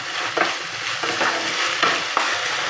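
Egg chili being stirred as it fries in a pan over a raised gas flame, with a steady sizzle under repeated scraping strokes of the spoon and no talk.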